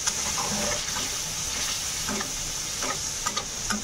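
Ground spices frying in oil in a pan while being stirred, for a home-style paneer and egg curry: steady close sizzle with scraping stir strokes at intervals, no talking.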